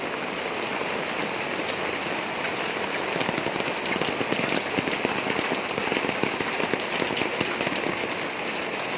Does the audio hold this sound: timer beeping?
no